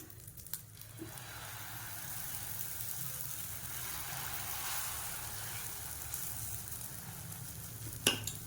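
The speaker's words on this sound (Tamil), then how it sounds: "இப்போ இதே மாதிரி இன்னொரு தோசை ஊற்றிக்கிறேன்." Dosa batter sizzles on a hot pan as a faint, steady crackle with a couple of brief clicks from the utensil, with no talking.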